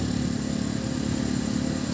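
Motorcycle engine running during a ride, a continuous close, steady drone with rough low rumble and broadband wind noise, no talking.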